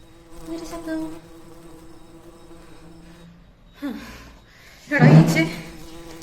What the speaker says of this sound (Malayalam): എടാ ഈച്ചേ, ഞാൻ പാട്ട് പാടുമ്പോഴേ എന്റെ ശബ്ദം മാത്രം കേട്ടാ മതി, കേട്ടാ?